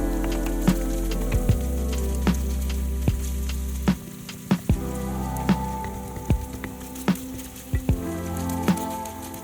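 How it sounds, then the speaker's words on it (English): Tomato paste and red pepper sizzle in hot oil in a pan, with a soft continuous frying hiss and scattered crackles and pops, quiet and close. "Add in about a tablespoon of tomato paste and mix until the oil changes color."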